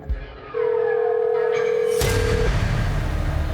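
A telephone rings on with no one picking up, a steady sustained electronic tone that cuts out and gives way to louder noisy background near the end of a Hindi crime drama scene.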